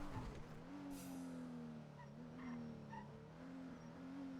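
A car driving in GTA V on the NoPixel roleplay server, its engine holding a steady low drone with slight rises and dips, faint and continuous throughout.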